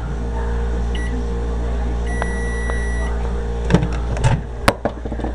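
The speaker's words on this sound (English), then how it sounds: "The burritos just came out of the microwave." Steady electrical hum of a microwave oven heating burritos, with a couple of short electronic beeps, followed by clattering and a door clunk near the end.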